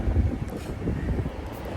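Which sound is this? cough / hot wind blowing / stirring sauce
hot wind blowing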